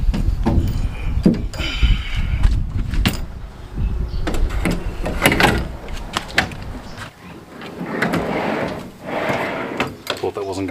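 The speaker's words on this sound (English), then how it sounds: "Just throw the drawer in, put the stopper on that stops it opening all the way" A drawer is slid into a cabinet and fitted with a stopper, giving repeated scraping slides and hard knocks and clunks, close by, with a person talking throughout.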